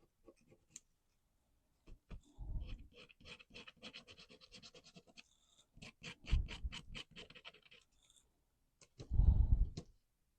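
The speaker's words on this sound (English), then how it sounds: "I think I need to scratch it up a bit" Scissors scrape across the shiny cover of a grungy accordion art book craft kit, giving close, rasping bursts with clicks in between and a louder scrape near the end.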